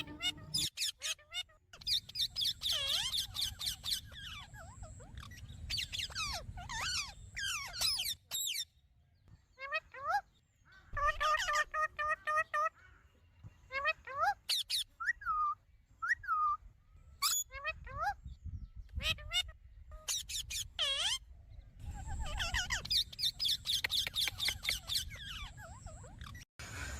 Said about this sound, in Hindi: आपने इनकी मीठी मीठी सी बातें तोता मैना की